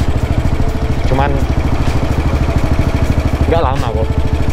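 A 1952 BMW R25 classic motorcycle runs with a rapid, even thumping engine beat close by, while someone talks briefly over it twice.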